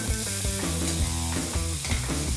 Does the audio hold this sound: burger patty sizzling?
yes